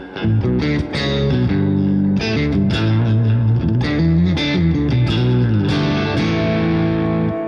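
An electric guitar through a Nutcracker heavy-gain tone plays loud, distorted chords and riffs with a thick, saturated sustain. It runs continuously for several seconds with no voices.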